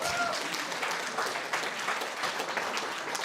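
Audience applause at a Kazakh wedding-style entertainment show, a steady crowd clapping filling the whole moment at moderate loudness with no break.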